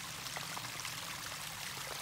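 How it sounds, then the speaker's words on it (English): Steady broadband rush of a mountain stream flowing out of a mountainside, a continuous stream running without pause, fairly close and even in level throughout. "this is a nice stream coming out of the mountainside."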